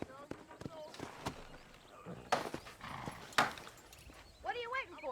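Horse hooves in the Red Dead Redemption video game, a few scattered thuds mixed with a dog's barking and a horse's whinny near the end, all under talk.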